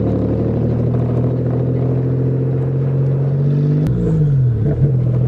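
A manual Toyota car pulls off in first gear, its steady, loud engine drone held close before shifting pitch and dipping near the end, with no talk.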